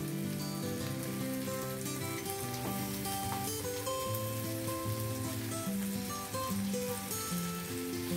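Chicken pieces for peri peri frying in olive oil on a grill pan, a dense, even sizzle and crackle that carries steadily throughout, with tonal music playing underneath and no talking.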